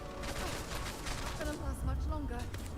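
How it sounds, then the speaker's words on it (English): A companion character, Sarah, fires a gun in the Starfield video game, producing a rapid string of sharp shots close by while a person talks over them. "Sarah's actually shooting now"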